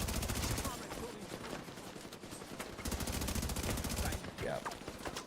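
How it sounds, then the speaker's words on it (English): An enemy fires electric bolts in The Division 2 hardcore mode, producing rapid, loud, continuous bursts like automatic gunfire, with chaotic combat noise and a voice talking over part of it. "it's this guy shooting electric bolts at me"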